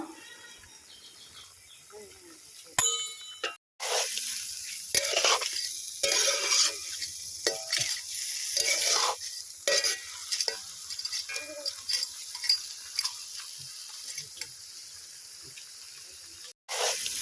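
Ginger garlic paste with onion and tomato paste sizzles and fries in a pan for a crab dish, with scraping stirring strokes and a steady hiss up close while someone speaks over it.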